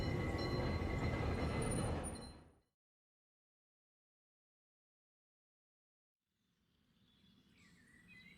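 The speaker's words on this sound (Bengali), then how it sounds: "ট্রাম আসতেই উঠে পড়ল তাতে" A tram rumbles along its tracks up close, a loud steady rolling drone that fades away into silence, before quieter outdoor ambience with faint birdsong rises again.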